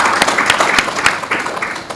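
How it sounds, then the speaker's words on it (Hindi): Audience applause at a Rotary Queen City half marathon event in Mumbai: steady, dense clapping from a crowd fills the whole stretch, fairly loud and close, with sharper individual claps popping out. "कृपया हमारे प्रेसिडेंट के लिए तो तालियां बजा दीजिए।"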